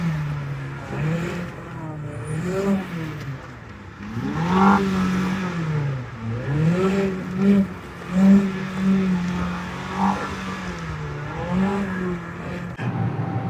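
Mazda CX-90 PHEV plug-in hybrid SUV driving through snow, its engine and drivetrain rising and falling in pitch through repeated accelerations, heard steadily from inside the cabin.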